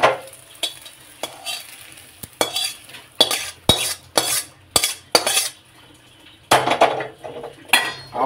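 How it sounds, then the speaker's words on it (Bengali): Fried egg being scraped from a pan into a bowl, with a spatula clanking against the metal pan in a series of sharp knocks and scrapes over a faint sizzle, close and with no talking. "এই ডিমটা ঢেলে নেবো আমি একটা পাত্রে"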